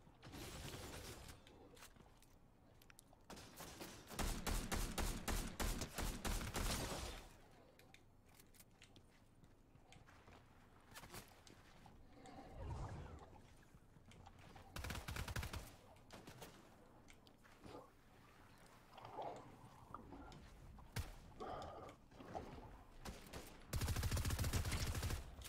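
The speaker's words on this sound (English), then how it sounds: "Got people shooting at me." Heavy gunfire in a PC battle-royale shooter, with bursts of automatic fire and rapid volleys coming in loud clusters, then scattered shots and mechanical clicks in a chaotic firefight.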